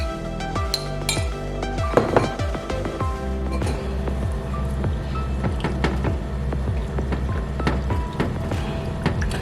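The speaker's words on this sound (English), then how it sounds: "Just dump it in there and just keep stirring." Cheese is stirred into potato au gratin in a pan, with a steady run of close clinks and scraping of a utensil against the pan over a constant low cooking hum.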